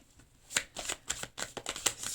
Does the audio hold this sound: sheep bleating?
no